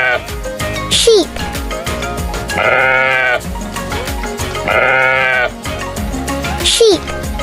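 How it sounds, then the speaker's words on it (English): Repeated wavering sheep bleats, loud and close, alternate with brief spoken words naming the animal. "Sheep."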